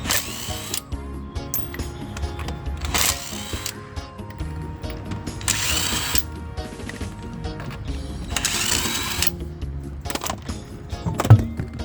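A power tool with a 19 socket removes a wheel from a Ford Fiesta, sounding in several loud, close impact bursts separated by pauses, with clanking and handling noise between them and no talk.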